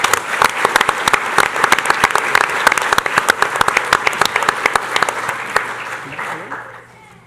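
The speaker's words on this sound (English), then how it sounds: "Let's give them a round of applause." Audience clapping for a student choir group at a school board meeting, brisk sustained applause in a room that fades out toward the end.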